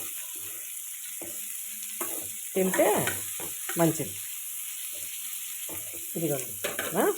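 Tender tamarind leaves and dried fish sizzle and fry in oil in a pan for dried fish curry, with soft stirring, while someone talks over it in short bursts.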